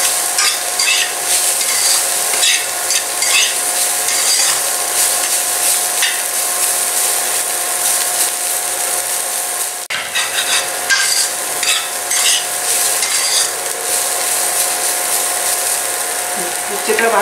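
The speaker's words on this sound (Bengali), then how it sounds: "উচ্ছেটা প্রায় ভাজা হয়ে এসেছে।" Slices of bitter gourd frying in a pan while a spatula stirs them, giving continuous close sizzle and rhythmic scraping clatter, loud and unbroken, with a faint trace of a voice.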